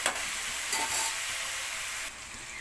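Onions and garlic paste fry and soften in a pan for a tomato cashew masala, a steady close sizzle with a brief stir in the middle before the hiss drops a little, no voices.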